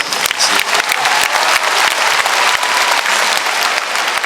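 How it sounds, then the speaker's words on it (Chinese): Loud, dense applause from a concert audience at an outdoor mothers' culture festival music show, continuous clapping that holds steady without a break. "给自己一个掌声"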